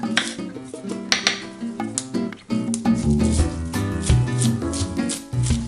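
Roughly chopping fresh herbs with a knife for Georgian pesto: quick, irregular knife taps on a cutting board, close and fairly loud, with some clatter and musical background.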